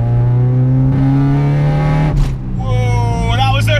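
A Honda Civic EK4 with a naturally aspirated B16B engine revs hard in third gear into VTEC, its high-pitched note climbing, dropping briefly at a shift, then rising again up close, with a voice audible over it.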